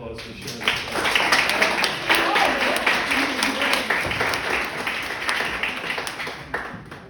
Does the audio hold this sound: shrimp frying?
no